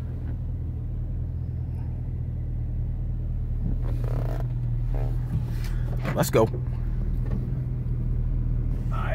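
A 2010 Chevrolet Camaro SS rumbles at low speed, a steady deep engine drone with a short rev near the middle, heard from inside the car while someone talks.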